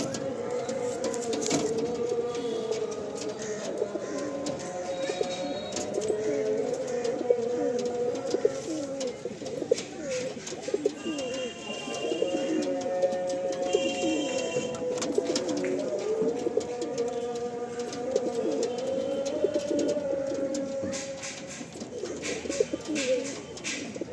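Madrasi pigeons coo steadily and close by, their low throaty calls overlapping continuously for the whole stretch, with faint background noise.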